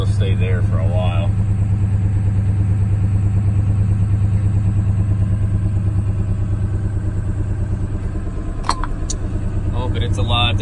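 A junkyard Ford 7.3 diesel four-wheel-drive truck idling after a cold start, a loud steady low clattering rumble close up that runs unbroken, with a couple of brief sharp clanks near the end.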